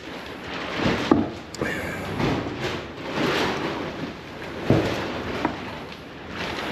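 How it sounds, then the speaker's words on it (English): Plastic sheeting over the windows of an unfinished house flaps in the wind, making irregular rustling gusts with occasional sharper snaps, fairly close and moderately loud. "The noise you're hearing are the plastic over the windows flapping in the wind"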